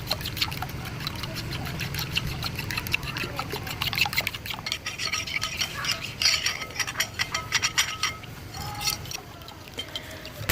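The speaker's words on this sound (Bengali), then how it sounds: "এখন হচ্ছে ডিমটাকে আমি ফেটিয়ে নেব।" Eggs whisked in a bowl beside a village clay stove: a quick, rhythmic clatter of whisk against bowl runs through the middle of the clip, moderately close, with soft background noise around it.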